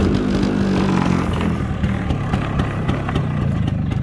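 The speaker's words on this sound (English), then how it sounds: "I think I just got to pull this clutch in and hit the start button. Yeah, it starts right up." A motorcycle engine running steadily at a low idle after starting, a loud, close, throbbing rumble with an even beat that continues throughout.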